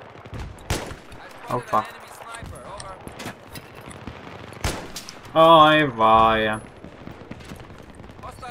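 Gunfire in the video game Battlefield 3 comes as scattered sharp cracks and short bursts, some distant and some closer, while players talk over the action.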